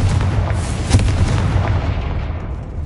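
A Confringo fire spell in the Hogwarts Legacy video game lets off booming explosive bursts, with one heavy blast near the start amid rumbling detonations that fade into a long, dying tail.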